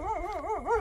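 A dog vocalizes close by in a short, wavering howl-like whine with rising and falling pitch, brief and fairly loud.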